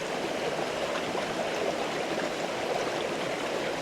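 Water in a mountain stream rushes and burbles steadily at moderate loudness, a continuous close flow with no voices over it.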